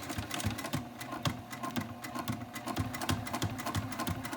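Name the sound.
sewing machine sewing slowly over pins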